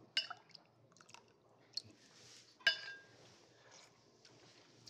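Someone tastes a Barolo beef braising sauce made with vegetable juices and porcini, giving a few close, faint mouth and chewing sounds with a couple of sharp clicks, alone with no talk.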